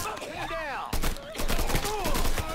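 Gunfire rings out in the Mafia 3 video game, with sharp rapid shots and bursts layered over game sounds and speech.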